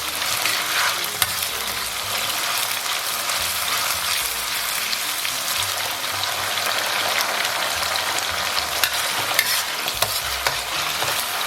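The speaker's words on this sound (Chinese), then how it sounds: "咱们先给它简单爆香，然后给里边来勺豆瓣酱，来勺辣椒酱，给它小火炒出红油" Garlic, ginger and scallion stir-fry in hot oil with doubanjiang and chili sauce over low heat, a continuous close sizzle with frequent scraping and stirring clicks, no talking.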